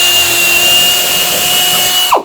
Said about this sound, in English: Tom is going to drill about halfway on the flat there